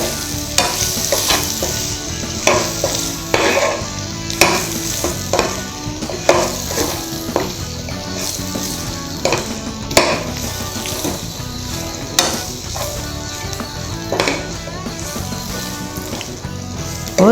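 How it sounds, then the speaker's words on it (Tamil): Fried chicken 65 pieces being stirred in a pan, with a steady sizzle under repeated scraping and clattering strokes of a spoon against the metal, close and fairly loud, and no talking. "இப்போ வறுத்து வச்சுருக்கிற இந்த சிக்கனை வந்து நான் இதில் போட்டுக்கிறேன். போட்டு நல்லா கிளறி விடணும்."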